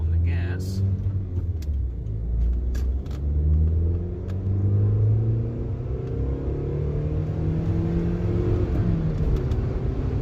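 A Scion xB accelerates on the road, its engine note rising in steady sweeping tones over a loud low rumble of road and wind noise from inside the cabin.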